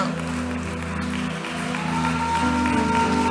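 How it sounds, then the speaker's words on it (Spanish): A church congregation gives a round of applause during a worship service, steady clapping from many hands sustained throughout, with a tonal musical backdrop underneath. "Damos un aplauso al Señor."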